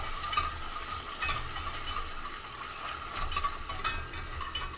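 Butter being whisked into chicken wing sauce in a pan, giving steady soft scraping and stirring with light sizzle, close and alone, with small rhythmic swells throughout.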